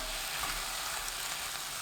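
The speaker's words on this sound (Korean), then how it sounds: "깻잎 넣고 10초 볶습니다" Perilla leaves and sliced king oyster mushrooms stir-fry over high heat with a spoonful of oligosaccharide syrup, giving a steady, close sizzle and hiss without a break and without voices.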